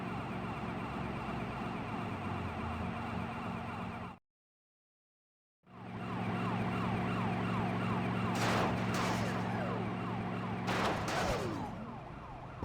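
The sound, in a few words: police car siren in Grand Theft Auto video game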